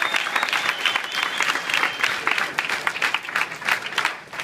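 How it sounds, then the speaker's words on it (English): Audience applause for a network marketing speaker at a conference event, dense steady clapping from a crowd lasting throughout, fairly loud and even with a few brief swells, no talk over it. "give a round of applause to Alex Morton,"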